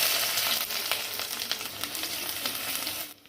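Ginger, garlic and chopped onion fry in hot oil for a Kerala-style tuna fish curry, giving a loud, continuous close-up sizzle with crackling spits and occasional stirring scrapes.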